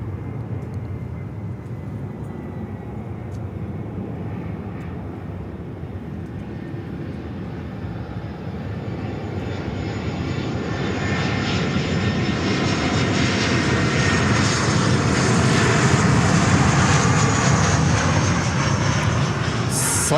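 A Sunrise Airways airplane engine at Miami airport makes a steady loud roar that builds and grows harsher over the second half as the aircraft draws nearer.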